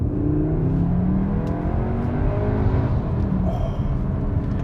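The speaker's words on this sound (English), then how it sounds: "the engine note doesn't sound too far away from Audi's 5-cylinder engine" A 2021 Cupra Formentor VZ2 revs hard in Cupra mode, its engine note climbing in rising sweeps, loud and close, with no voices over it.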